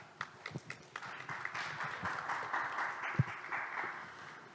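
Audience applause at a disability forum roundtable in Pyeongchang, a moderate patter of clapping with a few sharper claps standing out, fairly quiet and steady for several seconds.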